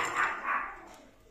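Yorkshire terriers yapping indoors at home, two quick high-pitched barks close by that fade away into quiet.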